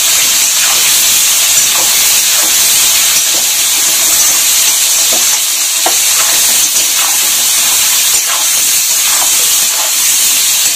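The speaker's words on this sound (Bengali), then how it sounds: "লাল করে ভেজে নিতে হবে।" Small potatoes, about 500 grams, frying in a pan give a loud, constant sizzling hiss throughout, with faint stirring scrapes beneath, close up and without speech.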